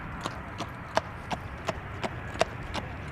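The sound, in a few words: horse and carriage passing by, hooves clip-clopping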